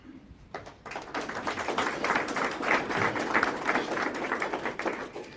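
An audience at a candidate forum for Houston County Justice of the Peace Precinct 1 breaks into clapping after a short quiet start, building to a dense, steady applause that holds to the end.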